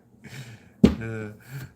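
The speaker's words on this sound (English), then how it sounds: "Oh, sorry, that was a suppressed yawn." A person stifles a suppressed yawn: a sudden breathy intake, then a muffled, drawn-out voiced exhale, with faint breaths before and after in a quiet room.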